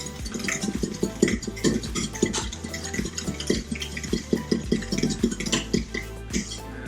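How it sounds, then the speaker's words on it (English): Eggs and milk are whisked together in a bowl, a quick, steady clatter of the whisk tapping and scraping against the bowl, close and moderately loud with no talking. "You'll have your eggs and your milk, and you want to sort of whisk them together"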